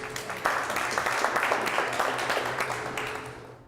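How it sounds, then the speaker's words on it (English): Audience at a fireside chat breaks into a round of applause, a dense wash of many hands clapping steadily at moderate loudness, fading out at the end. "why don't we start by giving him a big round of applause for joining us"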